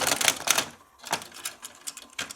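A toy parking garage playset's elevator ratchets upward in short bursts of sharp plastic clicks, a dense clatter followed by a few spaced single clicks, close and fairly loud.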